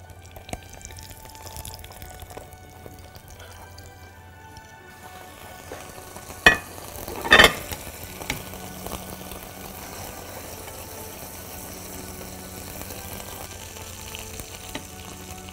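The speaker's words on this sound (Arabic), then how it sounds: "واحط شويه زيت وابتدي احمرها." Mumbar sausages fry in oil with a continuous soft sizzle, broken by two sharp clatters near the middle, and no talking.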